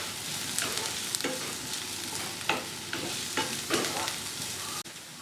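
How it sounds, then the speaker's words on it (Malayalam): Chopped onions, ginger and garlic sauté in a pan for a Kerala egg roast, giving a constant sizzle broken by repeated scraping stirs of a utensil against the pan. "ഇതിലേക്ക് അരിഞ്ഞു വെച്ചിരിക്കുന്ന ഇഞ്ചിയും വെളുത്തുള്ളിയും കൂടി ചേർത്ത് വീണ്ടും നന്നായിട്ട് വഴറ്റി കൊടുക്കണം"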